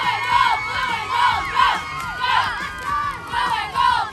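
A large crowd of about 800 people at a home football game cheers and shouts in rhythmic rising waves, loud and close, with many voices whooping together throughout.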